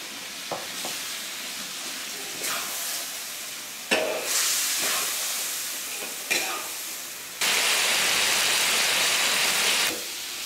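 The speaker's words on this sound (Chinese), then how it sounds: "现在可以把这个姜和这个蒜放进去炒一下" Ginger and garlic stir-fry in a pan for home-style Guangxi blood duck, a steady loud sizzle with scraping stirs and clatters that swells into an intense, hissing fry near the end.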